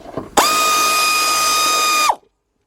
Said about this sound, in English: I got a 10mm deep 3/8 drive socket with my air ratchet